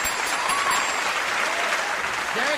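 A studio audience at a comedy debate show claps throughout, a dense, even applause that stays loud from start to finish.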